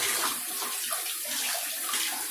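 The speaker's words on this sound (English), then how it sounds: "all you do is you get it wet with a little bit of warm water" Warm water running from a bathroom tap onto an exfoliating mask remover sponge, a steady close splashing hiss with no talk.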